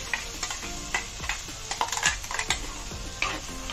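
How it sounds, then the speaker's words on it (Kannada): A thick gravy of ground tomato, onion, garlic and curry leaves boils in a pot, with continuous close bubbling and popping. Utensils clink and stir against the pot throughout, and no one speaks. "ನೋಡಿ ಚೆನ್ನಾಗಿ ಕುದಿ ಬಂದಿದೆ. ಈಗ ಕುದಿತಾ ಇದೆ."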